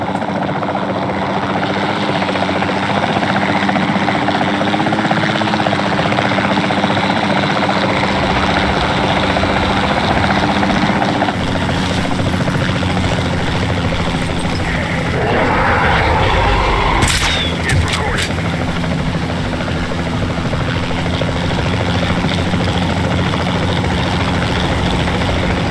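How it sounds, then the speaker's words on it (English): A capture team helicopter in the video game Jurassic World Evolution 2 flies with a loud, steady rotor and engine drone that runs throughout, with a brief whooshing sweep partway through. "Then the sensible thing is to take a capture team helicopter."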